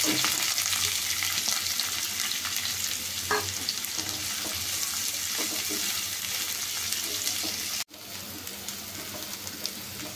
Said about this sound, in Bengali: রসুনটা একটু ভাজার পরে পেঁয়াজ দিয়ে দিলাম।